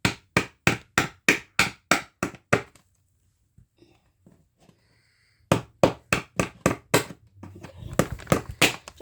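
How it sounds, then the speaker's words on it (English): Drainage holes are punched out of a 6-inch plastic plant pot with a rapid series of sharp, loud knocks, then a quiet pause with faint handling, then another quick burst of knocks. "what I need to do is I need to pop out some holes in it."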